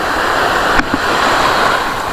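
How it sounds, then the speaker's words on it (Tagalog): Steady ocean surf breaks and washes continuously at a fishing spot, a broad close roar with wind buffeting the microphone and one brief knock partway through. "malon na alon"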